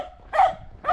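A dog in a remote Slovak village near Trenčín gives a couple of short, close barks outdoors.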